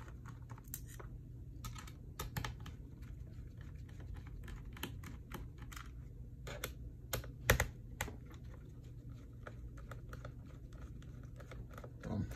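Small screws being taken out of an HP ENVY x360 laptop, heard as scattered light clicks and ticks from the screwdriver and the casing, close and fairly quiet over a low steady hum.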